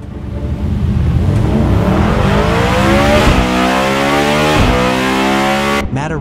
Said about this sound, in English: Bugatti has released a teaser of their V16 engine, including audio.